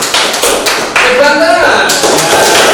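A classroom group claps hands in a quick, dense patter of applause, loud and close, with voices mixed in.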